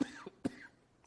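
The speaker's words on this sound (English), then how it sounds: "Sorry, I got a little cough." A man coughs twice in quick succession during a sports podcast, short raspy bursts close to the microphone, followed by quiet.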